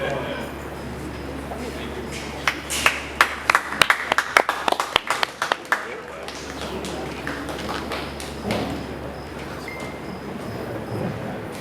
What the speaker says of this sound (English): Please give a big round of applause to Joshua Brinkman